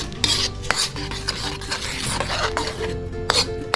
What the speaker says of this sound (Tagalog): dapat tuloy-tuloy ang paghalo para hindi magbuo-buo ang itlog